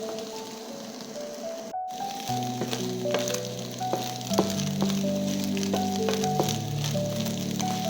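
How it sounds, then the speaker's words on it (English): Beaten eggs frying and being scrambled in a pan, a continuous close sizzle with crackles and soft stirring scrapes, while a low steady hum and faint tonal background sounds run underneath; no speech. "you start mixing everything, like scrambling everything until it's well cooked and with some brownish color or golden brown"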